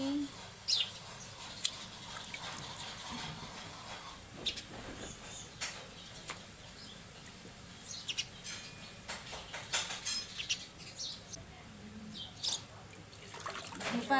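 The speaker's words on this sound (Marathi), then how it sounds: "पाण्यात घेऊन गाळून काढायची" Moong lentils are swished and rinsed in a basin of water, producing intermittent close sloshes and splashes against a quiet background, with brief irregular bursts throughout.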